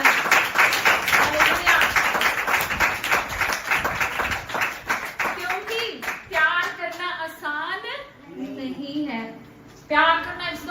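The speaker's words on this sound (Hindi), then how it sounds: "उस खुदा और उसके प्रेम के लिए एक बार जोर से ताली बजाएं" A church congregation applauding loudly during a Hindi sermon, a thick wash of many hands clapping that thins out, with people calling out and a speaker's voice coming through as the applause fades.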